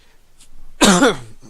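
A single sharp throat-clearing cough, loud and close, with a short rough tail, after near silence.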